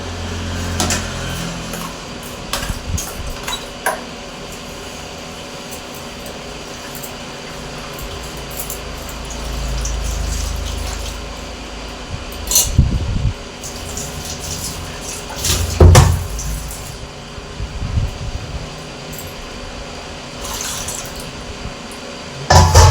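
Tap water running and splashing at a kitchen sink as utensils are rinsed, a steady wash of water with intermittent clatters and knocks of dishes, close and fairly loud.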